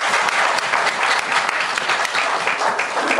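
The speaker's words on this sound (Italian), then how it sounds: "Un bel applauso di incoraggiamento" Warm applause from the audience at a poetry prize ceremony, a brief burst of many hands clapping close and loud with a faintly rhythmic texture, no voices above it.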